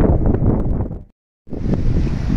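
Cold wind at a construction site buffets the microphone in heavy, rumbling gusts, cutting out briefly to silence in the middle before the roar returns.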